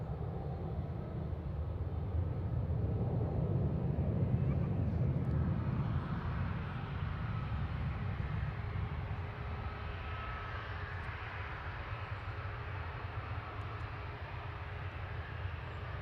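A Jet2 airliner, flight LS869 bound for Palma, departs Manchester Airport with a broad, steady engine roar that swells early on and then holds at a distant, sustained rumble.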